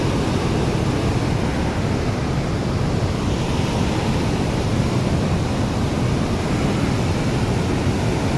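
A strong river current rushes in a loud, continuous roar of broadband water noise. The flow is close and unbroken, with no pauses or voices.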